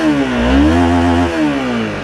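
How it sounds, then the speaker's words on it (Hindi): A Honda CBR 250R motorcycle's exhaust revs loudly close by, the engine pitch climbing, holding, then easing back down in a buzzy, harmonic-rich drone. "तो यह है इसका एग्जॉस्ट नोट"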